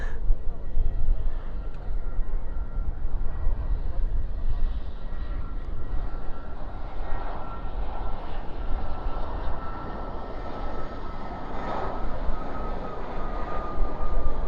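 An airliner landing at night at DFW airport roars with spoilers up and thrust reversers deployed, a steady, broad rumbling engine noise heard from a distance that holds for the whole stretch, with faint voices nearby.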